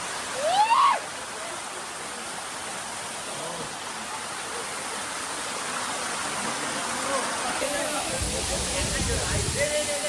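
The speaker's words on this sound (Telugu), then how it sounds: "ఇది మనకి వాటర్ ఫాల్ వచ్చేసి 300 ఫీట్ నుంచి పడుతుందంట, పైనుంచి కిందికి" Kattika waterfall dropping about 300 feet, a steady broad roaring rush of falling water heard close, with a brief voice near the start and talk audible in the background.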